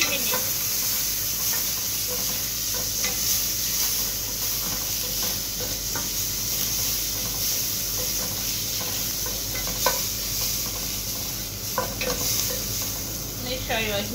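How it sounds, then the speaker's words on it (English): Chopped onions stir-frying in oil in a pan, giving a steady, continuous sizzle with occasional scraping stirs, close and fairly loud throughout with no talking. "Chopped onions, 1/4 cup of chopped onions to the oil. And stir fry it for 3 minutes."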